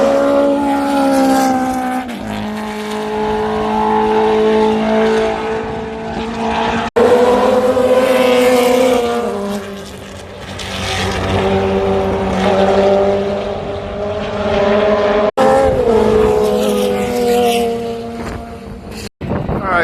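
Historic sports racing cars roar past in waves at Road Atlanta, their engines loud and close, with rising and falling pitch as each car passes and sharp cutoffs between bursts, under constant wind noise.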